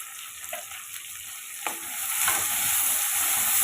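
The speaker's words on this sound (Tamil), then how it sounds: "அதையும் நான் வதக்கி எடுத்துக்கிறேன் வதக்கி எடுத்துகிட்டு ஒரு தக்காளி எடுத்துருக்கேன் அதையும் சேர்த்துக்கிறேன்" Tomato and onion sautéing in a pan for piranda kuzhambu make a close, continuous sizzle with occasional stirring scrapes that grows louder toward the end, with no voices.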